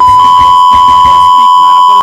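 A loud, steady high-pitched censor bleep runs for about two seconds, with faint background sounds beneath it, then cuts off abruptly.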